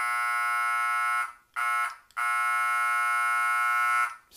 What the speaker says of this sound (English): nice and loud with that classic post-war American Flyer diesel horn